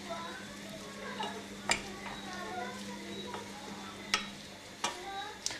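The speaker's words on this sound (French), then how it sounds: "nous allons maintenant faire revenir le tout dans notre casserole" Nopal soup ingredients are stirred and sautéed in a saucepan, giving a soft steady sizzle broken by a few sharp clinks of a utensil against the pan, under a speaking voice.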